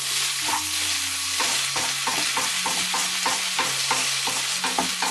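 Noodles and egg being stir-fried and scraped in a Chinese wok, with a continuous loud sizzle and repeated rhythmic scraping strokes of a spatula against the metal.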